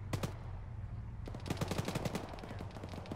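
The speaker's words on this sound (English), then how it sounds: "we're about to drive into a crossfire" Crossfire in the Arma military shooter game, rapid bursts of gunfire with sharp cracks, a longer automatic volley after a brief pause, fairly distant and moderately loud.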